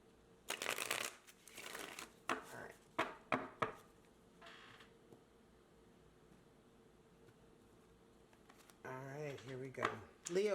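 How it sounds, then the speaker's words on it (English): Close, crisp shuffling of a tarot deck in quick bursts of riffles and taps, with quiet pauses between them, followed by a voice speaking at the end. "One more shuffle, Leo."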